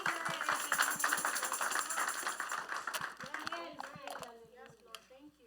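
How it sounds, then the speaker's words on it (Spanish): A church congregation applauds during a bilingual Spanish-English sermon, a wash of clapping that fades over a few seconds with rhythmic thumps beneath and a voice speaking as it dies down. "denle un aplauso al Señor."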